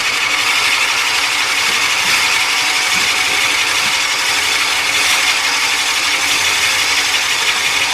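A 2 1/8 inch Forstner bit bores into a wooden hollow form on a lathe, giving a steady, loud grinding and whirring cut with a faint rhythmic ratcheting texture throughout, no voices.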